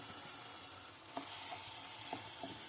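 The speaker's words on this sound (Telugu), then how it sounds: "ఇవి కొద్దిసేపు వేగనివ్వాలి." Capsicum, fresh coconut and tamarind frying in a pan, a soft steady sizzle with a few light stirring knocks scattered through it, fairly quiet and with no voices.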